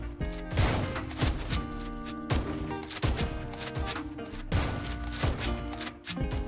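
Sniper tower fire in the video game Tower Defense Simulator, sharp shots repeating at a steady rhythm over looping game music.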